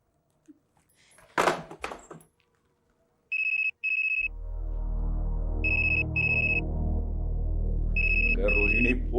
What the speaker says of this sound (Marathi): फोन वाजतोय, घेता येत नाही का तुला?